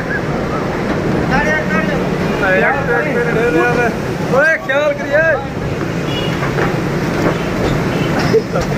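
A Lahore metro bus ride, with steady engine and road rumble filling the cabin while people talk loudly over it and short squealing tones rise and fall in the middle.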